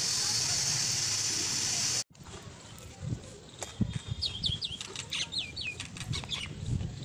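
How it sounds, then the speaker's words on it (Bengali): A myna sings in a quick run of short chirping whistles, clear but moderately distant, over soft background rustle. A loud steady hiss comes first and then cuts off abruptly. "শালিক পাখিতে গান ধরেছে দেখো এসে"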